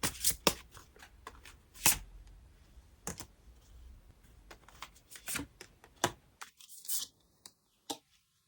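Oracle cards for an advice reading being shuffled and riffled by hand, close and crisp, in quick irregular bursts of papery slaps and flicks with short pauses between them.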